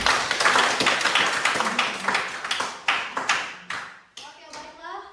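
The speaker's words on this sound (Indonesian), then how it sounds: "Tepuk tangan untuk kita semua" A junior high school class claps hands together in a dense burst that thins into separate slower claps and then stops, with children's voices rising as the clapping ends.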